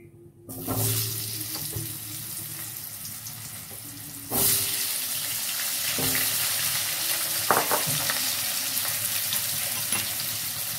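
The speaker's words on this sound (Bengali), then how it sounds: "আমি আলুগুলোকে একটু ভেজে নেব।" Potatoes fry in a pan of oil in a village kitchen, with a steady sizzle that jumps louder after a few seconds as they go in. A few clinks and stirring scrapes come through, and no one speaks.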